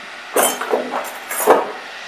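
A tea cup and spoon handled in a kitchen, giving three or four light, close clinks of ceramic and metal in quick succession.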